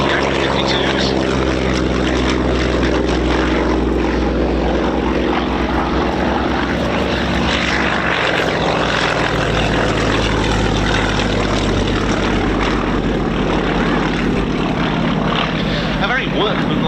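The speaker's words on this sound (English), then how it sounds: "Getting into the air then, 2 Yak 52s." Two Yak-52 propeller aircraft take off at an airshow, a loud sustained radial-engine roar and propeller drone that shifts pitch as they climb away, with a voice talking faintly underneath.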